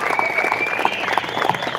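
A crowd at a rally at the California State Capitol breaks into applause: dense, steady clapping from many hands, close and fairly loud for the whole stretch.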